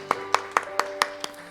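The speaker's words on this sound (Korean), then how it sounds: "하나님께 영광의 박수 올려드리겠습니다." A Korean church congregation at a Wednesday worship service claps in unison, about six sharp, evenly spaced claps in a steady rhythm.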